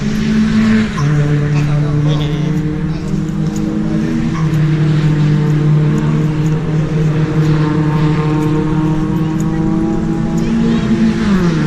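Toyota Vios one-make race cars on a circuit at a Toyota Gazoo Racing event in Phuket during qualifying, engines droning steadily and loudly with shifting pitch throughout, overlaid by crowd noise and announcer-like talk.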